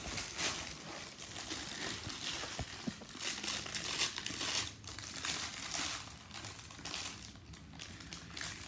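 Crinkling plastic packaging being torn open around a Blue Yeti microphone stand, with close, continuous rustling and sharp ripping crackles over several seconds.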